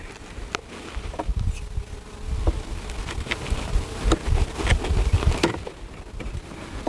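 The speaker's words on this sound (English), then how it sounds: "There's bees in the bottom" A dense, steady buzz of many honey bees swarming close by at a small three-frame nuc hive, with scattered louder passes and faint tapping, continuing throughout without any voices.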